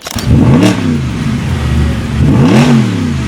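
A powerful Mercedes-AMG V8 engine revs twice, each blip rising sharply and falling back, loud and close with a deep rumbling idle between.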